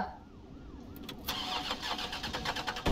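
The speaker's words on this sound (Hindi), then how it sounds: "गाड़ी स्टार्ट नहीं हो रही है" Car engine in a video game cranks with a rising, repeated whir, catches briefly and keeps turning over without settling into a steady idle, loud and close with no talk over it.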